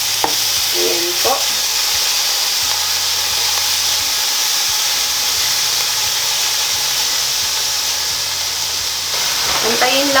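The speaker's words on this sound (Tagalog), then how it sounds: "Pag mainit na ang kawali, ilagay natin ang karne." Meat sizzling loudly and steadily in a hot pan for a Batanes valenciana, a continuous close frying hiss with occasional stirring scrapes.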